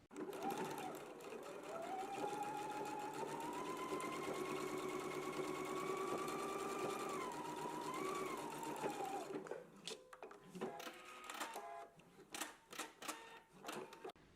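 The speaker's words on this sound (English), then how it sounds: "we can go ahead and stitch at a 5/8 of an inch seam allowance" A sewing machine runs steadily for about nine seconds stitching a 5/8-inch seam allowance, a continuous whirring drone with a rising and falling motor pitch. It then stops, followed by brief clicks and handling noises.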